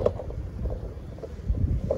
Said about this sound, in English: it's pretty freaking windy out